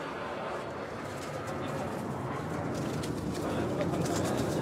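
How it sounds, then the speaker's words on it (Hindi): Teddy pigeons for sale coo softly amid a steady, busy background of bird noise, with a voice talking over the flock throughout. "सारे टेडी कबूतर हैं जितने भी हैं जी।"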